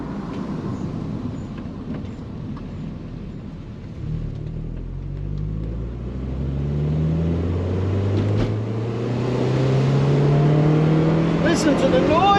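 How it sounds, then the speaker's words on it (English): A Toyota MR2 engine with an upgraded exhaust revs up through the gears, its deep exhaust note rising in pitch again and again as the car accelerates, fairly loud and close. "Listen to the noise! Oh, that engine sounds so good."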